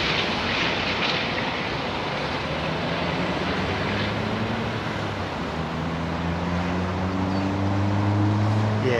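An Etihad Airbus A380 airliner at London Heathrow, a broad sustained engine roar with rising and falling turbine tones, fairly loud and steady throughout.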